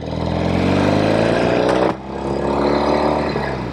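A Norton Commando 850 Roadster motorcycle engine revs hard and loud up close, rising steadily in pitch, then dips briefly as the throttle closes and climbs again.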